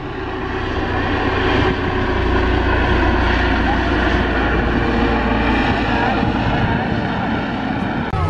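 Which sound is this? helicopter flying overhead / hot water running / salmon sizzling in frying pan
helicopter flying overhead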